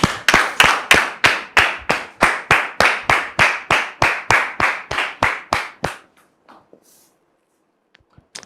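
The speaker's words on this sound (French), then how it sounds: "Merci de le recevoir sous vos applaudissements" Rhythmic hand clapping from an audience welcoming a guest onto a talk show set, steady and close for about six seconds, then stopping abruptly into near silence with a few faint stray noises.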